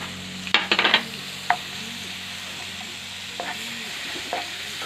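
Garlic, onion and chili are stirred into hot margarine in a pan, with a few sharp scraping stirs up front, then a quieter steady sizzle with occasional utensil knocks, close by and without talk.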